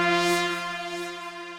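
A bright, sustained Serum software synthesizer lead note, rich in harmonics, ringing out alone and slowly fading over a second or two.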